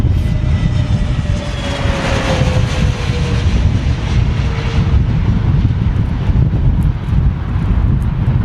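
An Airbus A320neo-family airliner with big engines lands in a storm at London Heathrow, a loud, continuous roaring engine rumble mixed with heavy wind buffeting, with a faint descending whine in the background.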